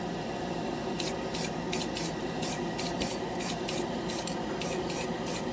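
Hobby primer sprayed from an aerosol can onto a plastic scale model in repeated short hissing bursts, about ten quick blasts at a steady rhythm over a low background hum.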